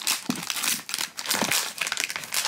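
Crinkly plastic packaging of a trick-or-treat surprise bucket crackling and rustling in quick bursts as it is torn open by hand, close and busy with no talk.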